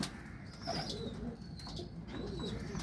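A Teddy breed racing pigeon coos nearby in low, rolling throaty calls, with a hint of wing movement and steady background noise.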